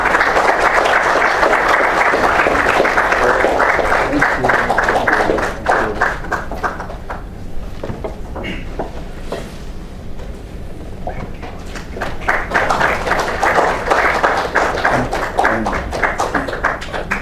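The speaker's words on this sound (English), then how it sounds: "Please welcome our guests with a big round of applause." A lecture-hall audience applauds to welcome guests, with loud, sustained clapping that eases off in the middle and then swells again toward the end.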